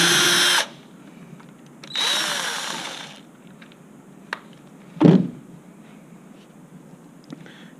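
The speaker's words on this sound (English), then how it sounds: "I'm using a magnetised tip, which makes it a little bit easier to get these screws out of the housing." Power drill with a magnetised tip backing screws out of a zip handle housing: two loud whirring bursts, about half a second and a second long, with a brief rattling clunk after them and light handling noise in between.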